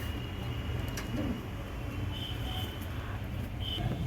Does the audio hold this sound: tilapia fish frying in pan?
no